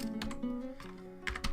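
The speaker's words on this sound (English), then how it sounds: "keyboard mashing" A computer keyboard being mashed, a few quick clusters of clacking keystrokes, close and moderately loud over a low steady hum, no talking.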